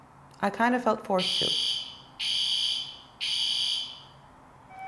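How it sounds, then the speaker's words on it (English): Indoor fire alarm sounding in three long, loud, piercing electronic blasts with short gaps between them, following a man's brief spoken line at the start. "That was the fire alarm."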